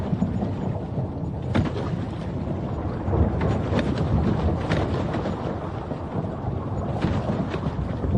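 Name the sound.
thunder rumbling at night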